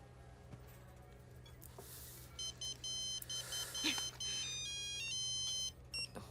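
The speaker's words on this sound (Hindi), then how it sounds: "तुम्हारी माँ का फोन है।" A mobile phone ringing in a dramatic film scene: a quiet electronic ringtone of short melodic beeps repeating in bursts over a low background hum.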